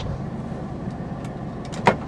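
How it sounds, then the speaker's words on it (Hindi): A Suzuki Cultus 1000cc car sits idling in a workshop, its engine giving a steady low hum close by, with a brief knock near the end. "गाड़ी इस वक्त आइडल कंडीशन में खड़ी है"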